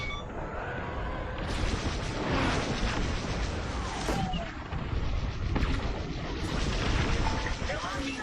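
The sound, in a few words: gunfire in a video game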